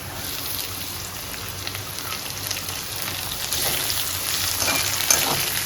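Chopped onion and chili fry in a hot pan with a steady, hissing sizzle that grows slightly louder toward the end, with faint stirring underneath.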